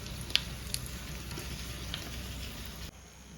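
Green chillies fry in coconut oil in a home kitchen, giving a soft, steady sizzle with a few faint pops and crackles, close and quiet.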